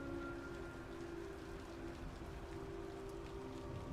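Steady rain falls outside an open window, a soft continuous patter of drops on surfaces with a low constant hum beneath it, fairly faint and unbroken.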